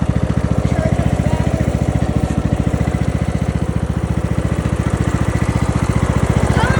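A small tractor engine idles steadily to run the alternator and charge the battery, a loud, close, even low chug with rapid regular pulses throughout and no voices.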